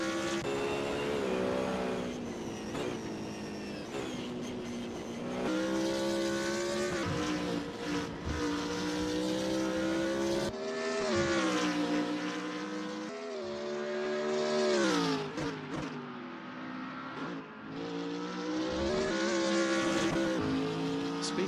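GT3 race car engines in a racing video game at Lime Rock, loud revving that climbs and drops sharply through shifts and braking, with brief gaps of quieter engine note.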